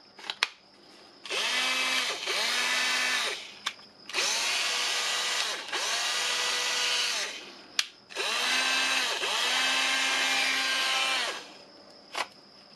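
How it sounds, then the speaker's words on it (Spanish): AEG cordless drill driver running on a rebuilt lithium battery pack, three bursts of loud high-pitched motor whine each lasting a couple of seconds, with trigger clicks and slight speed changes between them and no talk. "Como veis, en el taladro funciona perfectamente"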